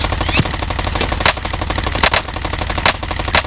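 Sniper shots in the Caldera battle-royale game crack out about five times at irregular intervals, sharp and loud over a steady mechanical background drone.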